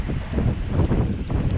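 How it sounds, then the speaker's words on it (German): Steady, rumbling wind buffeting a microphone outdoors while fishing with a hardbait rod, a continuous low roar with gusty swells and no talk. "Der Wind haut hier ganz schön rein."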